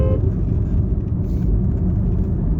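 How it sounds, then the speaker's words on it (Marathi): A Toyota Land Cruiser LC drives along the road to Pandharpur during the 2024 Vaari pilgrimage, giving a steady, loud low engine and road rumble from inside or close by that runs through the clip. "हे सुजय दादांची गाडी लँड क्रुझर LC."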